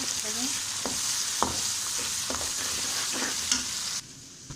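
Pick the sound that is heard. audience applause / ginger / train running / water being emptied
ginger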